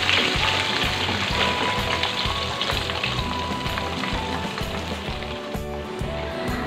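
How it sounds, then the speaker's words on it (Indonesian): Chicken pieces fry in hot oil, a dense, continuous sizzle and crackle with small bubbling pops, steady and close. "Lalu aku mau goreng lagi ayamnya."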